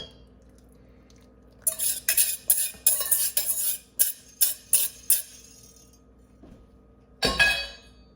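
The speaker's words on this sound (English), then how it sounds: "let's whisk this sauce back up again" A whisk beats sauce for a dill quinoa salad, clinking rapidly and rhythmically against the bowl in a steady run of strokes, then stopping briefly before one final burst, close and clear.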